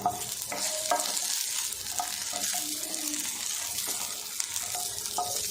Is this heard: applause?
no